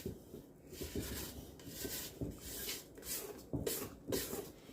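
Brownie batter being scraped down the sides of a bowl by hand, close soft rubbing and scraping strokes in uneven bursts, quiet and alone.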